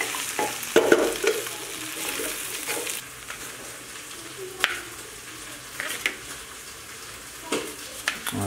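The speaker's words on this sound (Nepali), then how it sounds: "खसीको मासु भुट्दैछ यहाँ कुकर प्रेसरमा।" Goat meat fries in an open pressure cooker with a steady sizzle and scattered stirring scrapes, close and moderately loud, with no voices.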